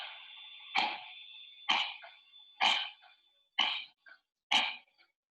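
A small old dog with a chronic cough hacks five times in a slow, spaced series, each cough a harsh, close burst followed by a short quiet gap.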